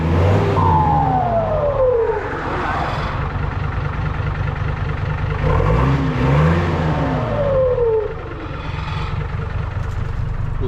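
A custom-built dump truck's engine revs loudly and close, rising and falling in several surges over a steady low rumble, with no talking.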